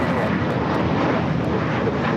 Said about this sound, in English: Second Virgin A350 1000 flight arriving on the north side